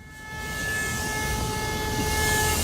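Steady, loud rumble of an oncoming train building over a couple of seconds, with a sustained horn-like tone riding above the roar.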